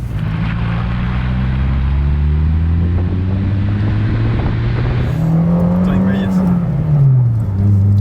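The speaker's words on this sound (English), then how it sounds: "So the Peugeot engine is very revvy." A 2002 Peugeot 106 S16 GTi engine revving loudly from inside the car, its droning pitch climbing and falling as it accelerates, with a voice occasionally audible over the rumble.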